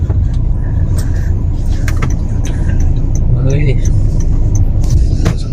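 Steady low car engine and road rumble fill the whole stretch at moderate loudness, with people talking over it and a few brief knocks and jingles.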